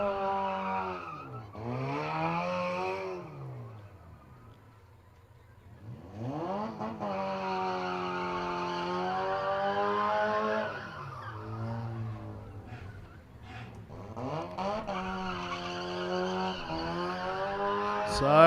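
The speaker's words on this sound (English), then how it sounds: "It's just donut after donut, not a lot of tyre smoke." A car doing donuts at a motorsport event, tires skidding and squealing in long wavering howls over a revving engine, loud and continuous with brief lulls between spins.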